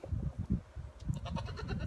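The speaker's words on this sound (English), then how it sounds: "It's goats, bro. Look at all my goats." A herd of goats on a farm bleats in short overlapping calls, a lively cluster of nearby cries over low rustling.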